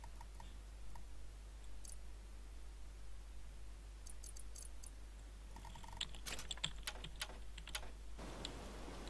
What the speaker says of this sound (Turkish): Klavye fare.